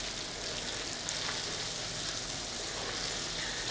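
Masala spices for beef nihari fry in a pan with a continuous, even sizzle, moderately close and unbroken, with no voices over it.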